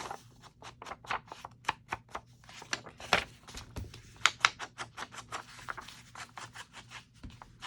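Paper is torn by hand for a woodland creature and mushroom journal page: a quick series of short, sharp ripping bursts, close and crisp, in an irregular rhythm with brief pauses.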